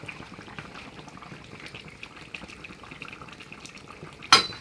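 Tilapia fish curry simmering in a pot, a soft continuous bubbling burble close by, ending with a sharp metallic clink of a utensil against the pot.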